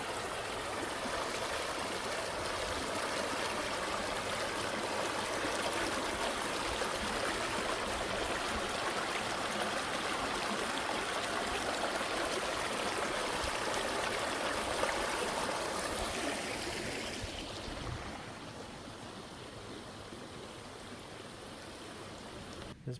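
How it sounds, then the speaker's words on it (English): A small waterfall along a trail gives a steady, broad rushing splash for most of the stretch, then drops suddenly to a softer, quieter water hiss near the end. "There's a waterfall here too."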